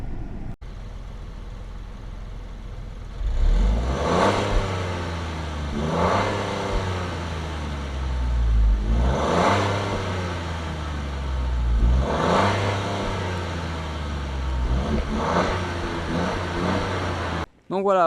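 A new Opel Corsa's engine revs repeatedly, heard from outside the car, rising and falling in several loud bursts over a steady idle, with no one talking.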